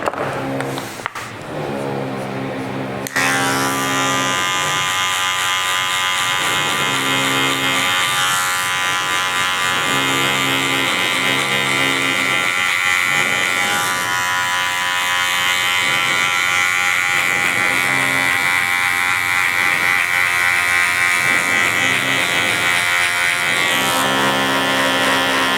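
Electric hair clipper fitted with a 1.5 guard, lever forward, cutting hair for a military fade: after a quiet start the clipper switches on and holds a loud steady buzz, pulsing slightly as it passes through the hair.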